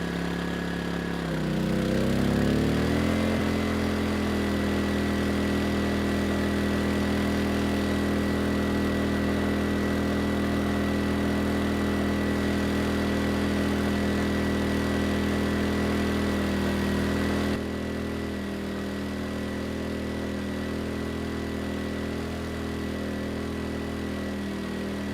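An Erayak 4500PD tri-fuel portable generator engine running steadily on propane under a 3,000-watt load, a constant droning hum that surges briefly early on, then settles and drops slightly in level near the end.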